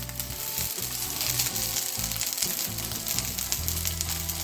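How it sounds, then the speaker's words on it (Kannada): Onions fry in a spoonful of oil in a frying pan, with a loud, dense, continuous sizzle and crackle heard close up throughout. "ಮೊದಲಿಗೆ ನೀರುಳ್ಳಿ ಫ್ರೈ ಮಾಡ್ಕೊಳ್ಳೋಣ."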